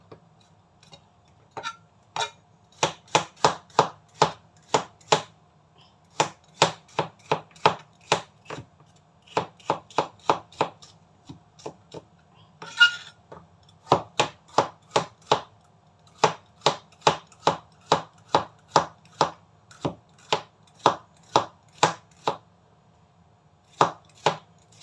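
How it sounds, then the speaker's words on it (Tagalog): A knife chops bitter gourd (ampalaya) on a cutting board in quick rhythmic runs of sharp close taps, pausing briefly between bursts, with no talk over it. "nahiwa na guys yung ampalaya natin"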